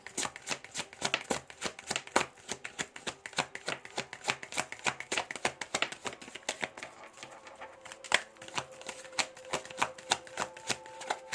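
Tarot cards shuffled by hand for a reading, giving rapid, dense riffling clicks that patter continuously at close range, steady and fairly quiet, with no talk.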